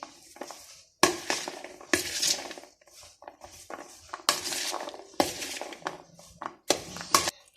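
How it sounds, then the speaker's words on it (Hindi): Spoon clinks and scrapes against a bowl while potato chickpea chaat is tossed with chutney, in repeated bursts of close, bright clatter separated by short pauses, with no voices. "अब हम इन सब चीज़ों को अच्छे से मिक्स कर देंगे"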